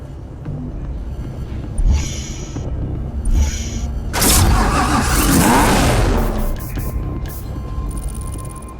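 A racer car engine starts in Need for Speed Hot Pursuit Remastered, with a starter churn, then a loud roaring catch and rev that settles into a steady idle, heard up close with no talk.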